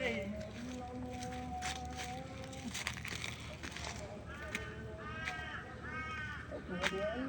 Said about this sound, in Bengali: কাক ডাকতেছে